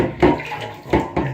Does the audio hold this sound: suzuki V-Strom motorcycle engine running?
no